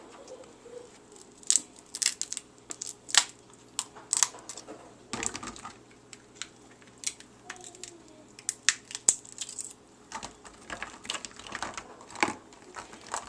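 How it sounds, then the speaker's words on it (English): Scissors snip through a cooked crab's shell and cartilage for Chamorro crab soup, a close series of irregular crisp clicks and crunches with small clatters, no talking. "Take a scissors, cut in between."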